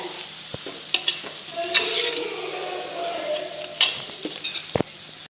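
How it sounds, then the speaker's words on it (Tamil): Prawn fried rice with vegetables is stirred gently in a pan, giving a soft sizzle broken by intermittent scrapes and sharp clinks of the spatula against the metal. "இந்த ஸ்டேஜில் காயோட ரைஸ் உடையாத எடுத்துட்டு லைட்டாக கிண்டி விடுங்க"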